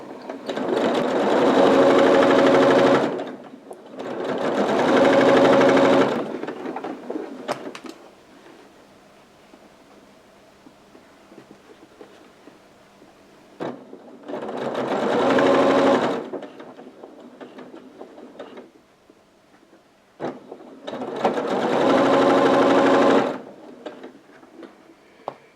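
A sewing machine stitching a quarter-inch seam on a string quilt runs in four loud bursts of a few seconds each, separated by quiet pauses with faint handling clicks, close up and without talk.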